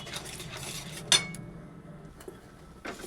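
A utensil stirring food in a pan as it dries, with faint scraping and one sharp metallic clink near the middle, quiet overall.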